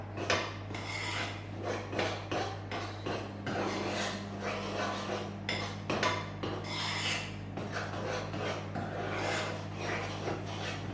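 Hazelnut croquant mixture stirred in a bowl, a steady scraping and rubbing that runs continuously and close, with a low constant hum underneath.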